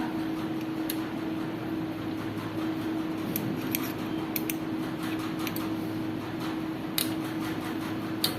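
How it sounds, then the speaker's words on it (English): A knitting machine inched along slowly, giving a steady mechanical hum with scattered light ticks and clicks throughout. "We can check by inching the machine."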